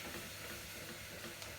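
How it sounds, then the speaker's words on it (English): Water and stock sizzle and steam steadily in a hot frying pan, a close, even hiss with no pause, fairly quiet and with no one speaking. "So you can hear that sizzling away, so you can get all that residue off the bottom."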